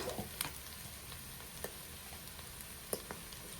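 Boti, goat intestine, fries in a pan: a faint, steady hiss of sizzling oil with occasional sharp pops and ticks, close up and with no talking.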